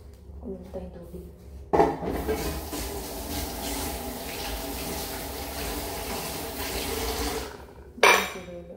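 Water runs from a tap in a steady gush after a short clatter, then cuts off with another knock of dishes, while a person talks quietly in the background.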